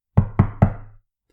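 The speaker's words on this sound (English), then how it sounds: "Now the wolf came to the goat's house for the third time and knocked." Three firm knocks on a wooden door land in even succession, close and resonant, each thud ringing briefly before silence.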